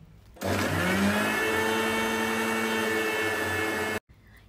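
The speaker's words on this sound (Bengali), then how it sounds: "এবার প্রথমে এই মিক্সিতে ভালো করে বাটাটা নেবে না, একটিবার ঘুরেই ব্লেডে আর বাটাটা নেবে না, শঁ শঁ শব্দ হবে।" An electric mixer grinder spins cream to churn ghee in a kitchen in Tamil Nadu, a loud, steady whirring roar that starts abruptly, holds for about three and a half seconds, then cuts off sharply.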